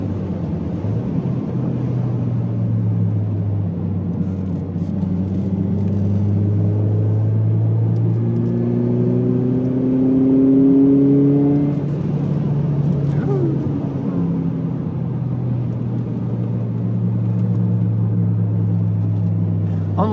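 A Ford Mondeo MK3 is driven briskly up a mountain pass, its engine droning steadily from inside the cabin with rising and falling tones as it accelerates and shifts, under constant road rumble.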